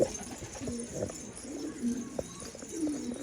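Soft coos from tumbler pigeons repeat a few times at close range, low and throaty, with light rustling and faint background noise.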